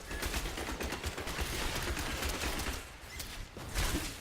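Rapid gunfire in Diablo 3, a dark fantasy action game, crackles in a dense, continuous stream of shots against enemies, steady and moderately loud with a few brief dips.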